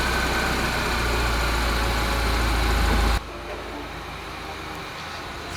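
A BMW N47 diesel engine in a BMW 1 Series with a broken timing chain runs loudly for about three seconds, then drops to a quieter, steady idle-like rumble with no talk.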